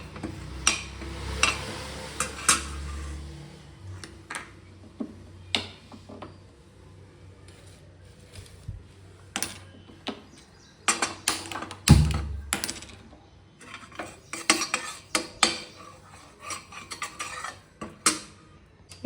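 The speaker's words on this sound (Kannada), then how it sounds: "ಈಗ ನೋಡಿ, ಕೊಬ್ಬರಿ ಹಾಕೋತಾ ಇದ್ದೀನಿ. ಇದು ಡ್ರೈ ರೋಸ್ಟ್ ಮಾಡ್ಕೋಬೇಕು" Grated dry coconut and poppy seeds being dry roasted in a pan, stirred with a spoon that scrapes and clinks against the metal in irregular bursts, with soft rustling of the seeds, close and moderately loud.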